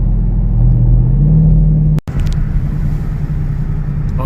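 A car engine rumbles loudly and close while driving through a tunnel, its deep drone rising briefly before a sharp cut, then continuing steadily.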